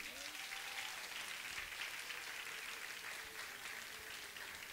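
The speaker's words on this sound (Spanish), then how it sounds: "Dele un fuerte aplauso al Rey." Faint, steady applause from a congregation at a religious service, a soft continuous patter of many hands heard at low level with some indistinct voices underneath.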